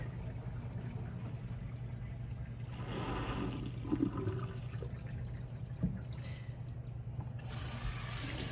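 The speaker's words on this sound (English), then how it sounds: "you're going to take the drain stoppers out to drain the sink" A kitchen-lab sink drains after its stoppers are pulled, giving a steady low rush and gurgle of water over a constant background hum, with a brighter splash of running water near the end.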